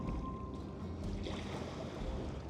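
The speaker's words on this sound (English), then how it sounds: "when a ship comes in, the waves get stronger" Waves stirred up by a passing ship wash in a steady, rushing surge of water, moderately near and continuous with no voices over it, recorded on a Zoom H1 handheld recorder.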